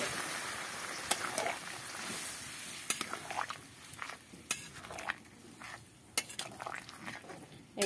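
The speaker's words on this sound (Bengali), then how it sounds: "দিয়ে দেবো একটু গরম জল।" Hot water poured into a kadai of sautéed spice masala for a Bengali-style ichor (young jackfruit) and paneer curry, giving a soft hissing wash broken by several sharp clinks of a utensil against the pan, up close.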